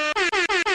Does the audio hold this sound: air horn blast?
yes